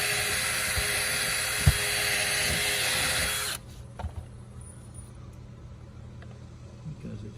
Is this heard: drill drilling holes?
yes